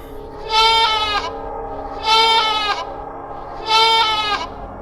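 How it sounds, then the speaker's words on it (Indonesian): Three evenly spaced, high, quavering bleats from a young goat, loud and close, each lasting about half a second. "Itu adalah anak kambing yang ia cari."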